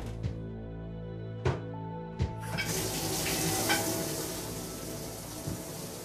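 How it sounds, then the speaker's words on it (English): Shower water runs in the video game Deus Ex: Mankind Divided, a steady hissing spray that starts after a few sharp clicks and knocks and carries on alone, fairly faint. "Oh, I'm actually using the shower."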